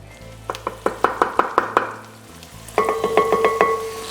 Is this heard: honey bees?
no